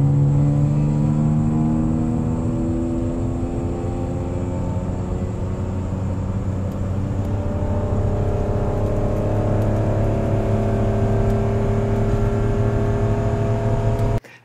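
A minivan engine with a newly installed ECU revs steadily upward through a long acceleration pull, a loud continuous drone with climbing harmonics, no voices, ending abruptly.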